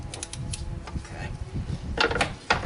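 A ratchet wrench tightens the intake bolts on a Ford Taurus 3.0L OHV engine, giving close, quick clicking ratchet strokes in short bursts with small metallic clanks and no talk.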